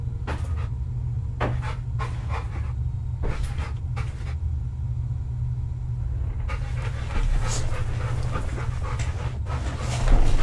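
A big Labrador named Gabby pants in quick rhythmic bursts close by, over a steady low rumble of an idling car, with the breaths turning into a denser, louder stretch toward the end.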